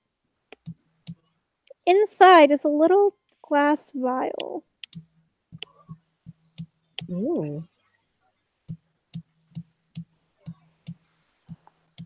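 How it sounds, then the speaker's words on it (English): Sharp, regular clicks tick steadily through the whole stretch, loud and near, with someone talking in between the clicks. "I hear you clicking."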